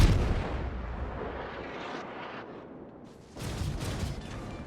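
Warship naval gunfire in the World of Warships video game: dense, loud booming rumble of cannon fire with rolling explosions, dipping briefly before another heavy salvo surges back in, no talk.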